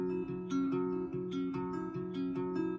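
Guitar notes alternately picked across strings three, four, three and five in a steady repeating pattern, played alone and clearly with no talking.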